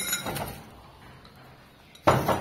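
A plate being unpacked and handled, with a few soft knocks and shuffles early on, then a bright ceramic clink and rattle near the end, close by.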